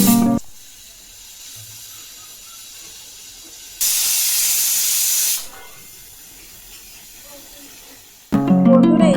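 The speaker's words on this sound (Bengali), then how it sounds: "এবারে আমি চার থেকে পাঁচটা সিটি দিয়ে নেব" A pressure cooker of jackfruit seed dal lets off a loud burst of hissing steam for about a second and a half, preceded and followed by a softer steady hiss, with a short clatter near the end.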